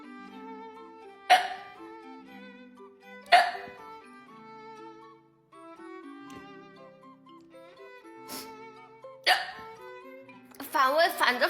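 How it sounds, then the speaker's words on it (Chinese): Quick, sharp hiccups come in four or five separate bursts, close and loud over a musical background, with a short run of voiced sounds at the end. "本来一开始那几口是反胃的，然后就开始打嗝了。"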